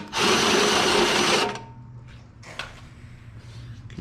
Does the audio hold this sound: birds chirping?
no